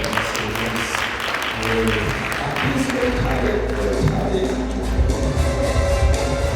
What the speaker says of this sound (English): Can we give a big round of applause to Ms. Fatia Kiange?